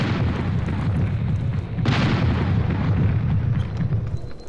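Cannon fire aboard an airship in the video game Air Buccaneers, heavy booming blasts over a continuous low rumble, with one sharp loud report standing out midway and no talk.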